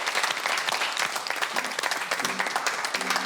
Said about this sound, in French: J'ai envie que vous applaudissiez aussi